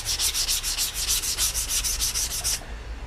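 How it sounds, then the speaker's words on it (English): Steady, rhythmic sanding strokes rasp back and forth about a dozen times at close range on a Mandalorian helmet, then stop. "that's what it sounds like when I first start sanding it"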